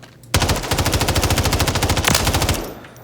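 A long-range loadout gun in Warzone firing a single sustained full-auto burst of about two seconds, loud and close with rapid evenly spaced shots, then a short fading tail.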